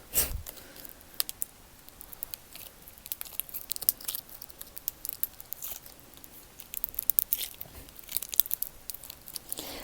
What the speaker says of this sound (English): now we hear more of the crackling